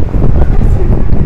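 Strong wind buffets a handheld microphone outdoors in Tokyo, producing a continuous, loud low rumble and blustery roar that fills the whole moment with little variation.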